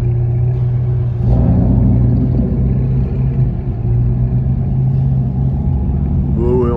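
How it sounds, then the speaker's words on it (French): Big American V8 cars rumbling and revving close by, a loud deep engine drone with a throttle swell early on, under steady chatter from people nearby. "on sait que vous avez des gros V8 et que vous faites du bruit"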